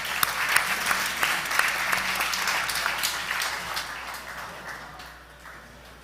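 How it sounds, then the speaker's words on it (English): A crowd at a New York event applauds in a dense, even patter of claps that gradually thins and softens toward the end. "All right, another round of applause."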